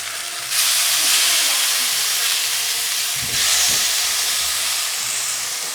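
Meat sears in a hot pan with a loud, steady broadband sizzle and hiss, swelling when pieces are added and continuing without talk.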